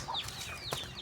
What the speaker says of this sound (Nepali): हाम्रो कुखुराहरू तपाईहरुले देख्नु भएको छैन